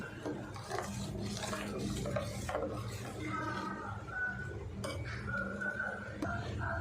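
A spoon scrapes and stirs steadily through thick chutney in a pot, close and soft, with a few light clinks along the way.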